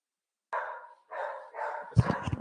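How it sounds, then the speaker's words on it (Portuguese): A neighbor's dog barks three times in quick succession, close and fairly loud, followed by rougher, more ragged barking. "Desculpa aí, o cachorro do vizinho"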